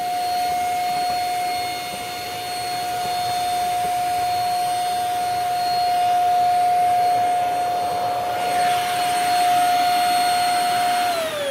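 A Kyanware corded mattress and bed vacuum cleaner with 16Kpa suction runs continuously nearby, a steady loud whine with a strong sustained tone and airy rush, pitch dipping slightly at the very end.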